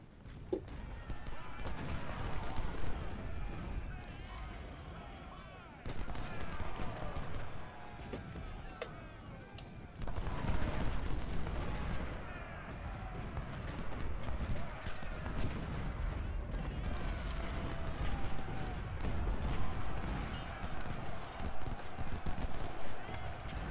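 Battle gunfire in the Civil War strategy game Ultimate General, with troops firing on cavalry: dense, continuous crackling volleys and rumbling shots under a steady wash of noise, with someone speaking over part of it.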